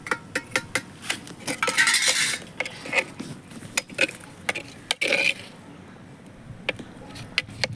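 A spoon scrapes and clinks against a pot as mushroom biryani masala with ginger and garlic is stirred, in quick metallic taps and scrapes close by over a faint sizzle.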